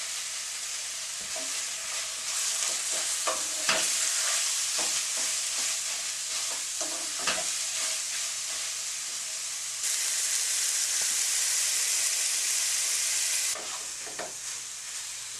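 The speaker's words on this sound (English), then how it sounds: "now that the garlic's kind of like mixed in around with the meat, I can put it on high so that the garlic doesn't burn" Ground meat and garlic for spring roll filling, seasoned with sugar and salt, sizzle and hiss steadily in a hot pan, with scraping stirs throughout and a louder burst of frying partway through, no voices.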